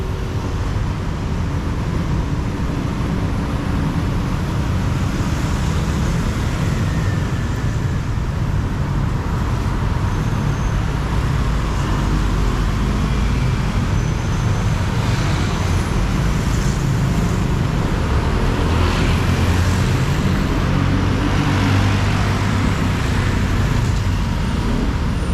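Busy city street traffic in Asoke, central Bangkok, with a continuous roar of cars, buses and trucks passing close by, steady and loud throughout with no talk.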